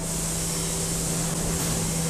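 The spray head of an aluminium die casting machine blows air in a steady, continuous hiss over a low mechanical hum, loud and unbroken throughout.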